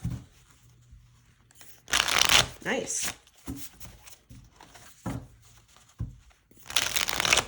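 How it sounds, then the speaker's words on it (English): Tarot Obscura tarot cards being shuffled in several quick riffling bursts, close by, with a short spoken word in between. "Let's see how she shuffles."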